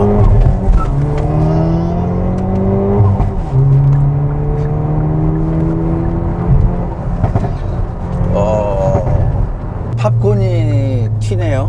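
A Hyundai Veloster N in Sport Plus mode drones loudly from the cabin, its engine note rising and falling with crackling exhaust, while people talk over it toward the end.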